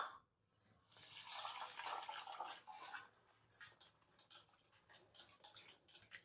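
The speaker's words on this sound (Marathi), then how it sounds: "आता हे आपण धुवून घेऊ चांगलं।" Mixed toor, moong and masoor dal is washed by hand in a bowl of water: a steady sloshing rush, then a series of short splashy swirls and clicks close by, with no talking.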